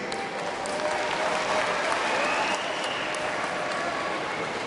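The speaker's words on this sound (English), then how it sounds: "Please give him a big round of applause" Crowd applause welcoming the Deputy Leader of the Liberal Democrats onto the stage at a large arena event in London's ExCeL Centre, steady dense clapping that holds at an even level throughout without talk.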